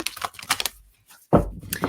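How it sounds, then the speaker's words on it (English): Playing cards being shuffled at close range, with papery rustling and flicking bursts, a short gap, then a louder riffle. "I'm going to start shuffling here"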